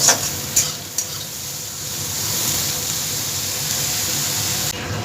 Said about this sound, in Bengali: বেগুনটাকে একটু ভেজে নেব